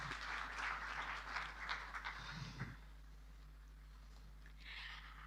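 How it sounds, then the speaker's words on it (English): Ceremony audience at the ATIDI AGM opening gives a short burst of clapping that fades out after about three seconds. A steady low hum runs throughout, and a brief faint patter of claps returns near the end. "Another round of applause."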